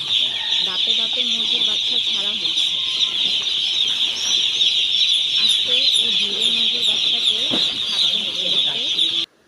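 A brooder full of baby chicks produces a dense, continuous chorus of high cheeping that stays close and loud throughout, then cuts off abruptly at the end.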